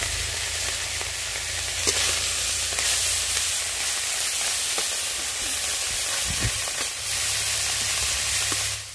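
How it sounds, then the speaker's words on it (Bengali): Small fish, coated in salt and turmeric, fry in hot oil in a wok, a steady close sizzle and crackle with occasional stirring sounds, continuous and alone. "তেলাকচু শাকের তরকারি রান্না করার জন্য মাছগুলো ভেজে নিয়েছি।"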